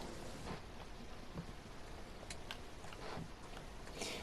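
Steady rain falls in a train simulator game on the Cathcart Circle Line to Glasgow, a soft continuous hiss of drops with scattered faint ticks, low and even throughout.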